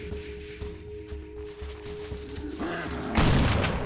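A sharp, booming hunting rifle shot from the video game Cabela's Dangerous Hunts 2013 bursts out near the end, loud and sudden, after a stretch of quieter rustling and low thumps.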